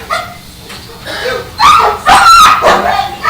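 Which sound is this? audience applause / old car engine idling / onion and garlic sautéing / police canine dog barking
police canine dog barking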